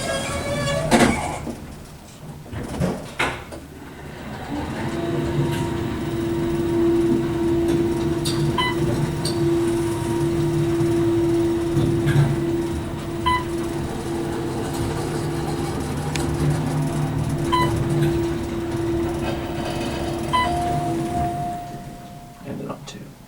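A restored Otis traction elevator motor hums steadily through a ride, its sustained tonal drone holding at a constant pitch with faint clicks and mechanical rattles, close and continuous after a few brief knocks at the start.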